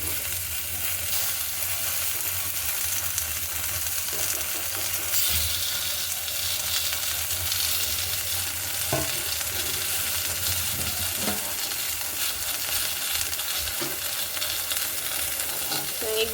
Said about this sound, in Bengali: এইগুলো তেলের মধ্যে দিয়ে দেব